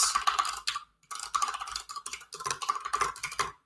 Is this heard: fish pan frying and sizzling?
no